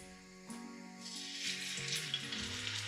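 Oxtail pieces dropped into hot melted beef dripping, the sizzle jumping and building into steady close frying as more meat goes into the pan.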